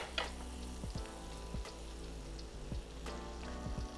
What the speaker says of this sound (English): I'm now gonna add some unsalted butter. We're letting that melt in the pan